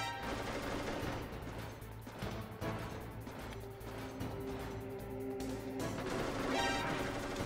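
Metal Gear Solid gunfire: rapid, continuous bursts of shots over a dense, loud game soundtrack, with sharp cracks and clatter packed close together and no pause.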